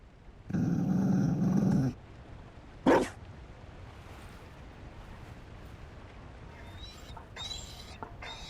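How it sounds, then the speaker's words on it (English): A Mabari war dog in Dragon Age: Inquisition gives a loud, rasping growl lasting over a second, followed by a short sharp snarl, then quieter game ambience with faint sounds near the end. "You found a dog. They don't breed Mabari in Olay."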